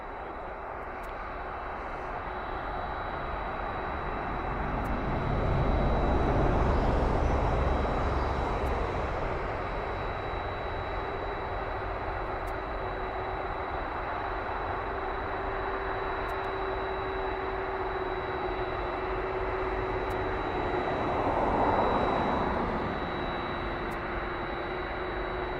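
DHL cargo airplane at an airport, a steady broad jet roar heard from a distance, swelling louder twice as aircraft pass, with a faint high whine over the rumble and no talking.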